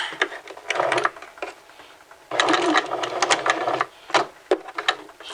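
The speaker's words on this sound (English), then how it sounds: "So insert your fabric in to the 5/8 inch seam line, starting at the underarm seam. Let's sew." A sewing machine stitches a 5/8 inch seam while a sleeve is set in, starting at the underarm seam, in short and long bursts of rapid mechanical chatter with brief stops between runs.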